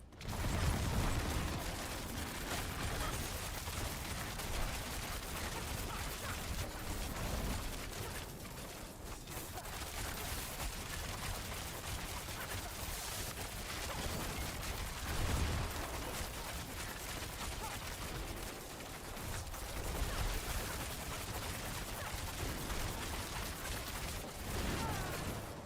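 Continuous dense bursts of ultimate mortar fire in a video game, a sustained barrage of overlapping blasts and pops that holds at a steady, moderately loud level the whole way through.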